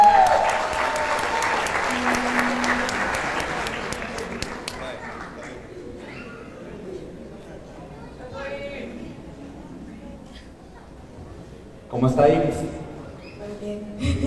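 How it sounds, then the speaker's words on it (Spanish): An audience at a Christian youth summit gathering applauds a young man from El Salvador, a loud burst of clapping that fades over a few seconds into quieter room noise with voices, followed by another short flurry. "Un aplauso, por favor."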